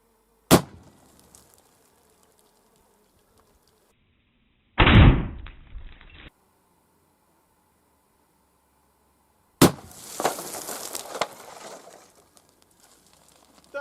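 A rifled blunderbuss loaded with a round ball fires three sharp, loud reports at milk jugs outdoors, spaced several seconds apart with quiet gaps between. The second shot carries a brief crackling tail, and the last rings on with a longer decay.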